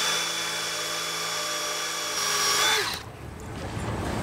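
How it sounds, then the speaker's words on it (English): A power drill bores through steel with no lubricant, a steady high whining motor with harmonic tones that bogs down and drops in pitch before the bit breaks through and the whine stops. "Drilling through steel without any lubricant sometimes is difficult."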